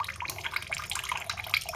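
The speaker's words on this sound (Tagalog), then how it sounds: "So kahit anong sagad o sara, eh lagi tumutulo." A broken faucet with a failed valve keeps dripping even when closed, giving a close, rapid patter of water drops into a sink.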